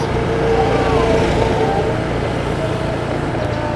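A Toyota forklift drives along a rough village road in Thailand, its engine giving a steady, close, continuous motor drone throughout with no talking.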